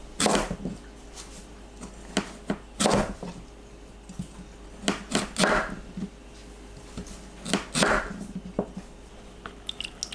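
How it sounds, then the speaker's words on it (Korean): A knife slices sweet potato into 1 cm thick pieces on a board, with irregular sharp chops and taps spaced a second or two apart, fairly close. "고구마를 1cm 두께로 썰어주세요."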